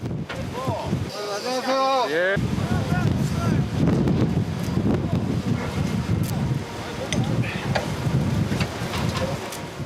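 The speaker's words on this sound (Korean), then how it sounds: "남극의 거센 바람은 금방이라도 그물이 날아가 버릴 것 같은 공포감마저 들게 했다." Strong Antarctic wind buffeting the deck of a krill fishing boat, a loud continuous roar with gusts and creaking, close to the microphone; a brief whistling tone rises and falls near the start.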